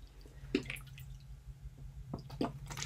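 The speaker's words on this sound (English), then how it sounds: "So I've got my water in a little squeeze bottle." Water squeezed from a small squeeze bottle into cornstarch, heard as a couple of soft, close wet drips and squishy pours at a low level against quiet room background, with no talking.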